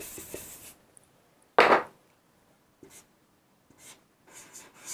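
A pen or pencil scratches out numbers while a math problem is solved, with one loud stroke burst and several short, quieter scribbles spread between pauses, close up.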